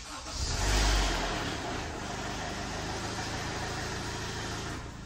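A turbocharged Honda Civic engine runs at a steady idle with a loud mechanical noise from the VTEC actuator and cam gear. A brief swell near the start settles into a continuous, even drone.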